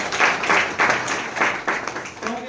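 Applause from an audience at a network marketing meeting: a burst of clapping that swells and dips in uneven waves for a couple of seconds, fairly loud and close, with no talk over it.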